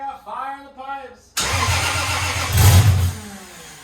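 A Toyota 2JZ engine cranking, catching and briefly running loud and close with a rough surge before cutting out, preceded by someone speaking.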